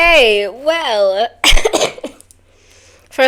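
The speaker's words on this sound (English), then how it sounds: "first cough of the video, that's okay." A single loud, close cough bursts out after a stretch of high sung music playing in the background, followed by a brief quiet pause and another short sound.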